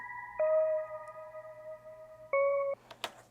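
A bright electric-piano chord sustains, then a second higher chord, the keys sample resampled higher-pitched, sounds briefly before a few soft clicks end it.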